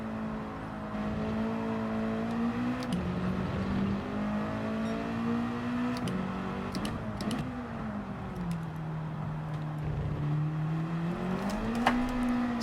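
A race car engine in Gran Turismo 7 drones steadily and shifts pitch as gears change, rising and dropping through the run, with faint clicks and no talking.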